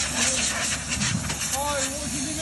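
A hot box pressure washer's steam jet hisses loudly and continuously, a dense close rushing blast with faint tonal squeals riding on top.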